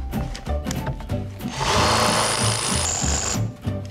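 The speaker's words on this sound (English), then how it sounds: "you're gonna get the proper size drill bit to create a cavity that the screw extractor is going to bite into" A power drill bores into a screw to make a cavity for a screw extractor, whirring up into a loud, sustained grinding buzz for about a second and a half, then stopping, with clunky handling noises around it.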